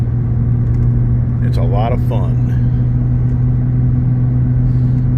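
A Ford Raptor pickup truck's engine runs with a steady low rumbling drone, loud and constant throughout, while someone speaks briefly over it.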